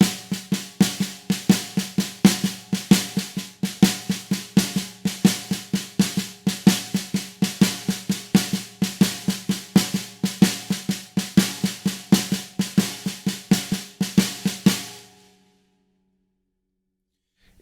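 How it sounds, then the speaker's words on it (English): A steady, even snare drum rhythm in a New Orleans style, crisp repeated hits played alone and fairly close, ending abruptly after about fifteen seconds. "Sounds like this on the snare drum."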